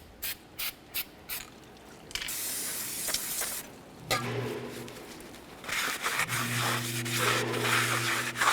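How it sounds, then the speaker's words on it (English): Brake cleaner sprayed inside a brake drum on a 2004-2006 Scion xB, several short hissing bursts and then long sustained sprays with rubbing and a few mechanical clicks, close and fairly quiet. "It's important to make sure you clean down your entire braking surface inside of the brake drum."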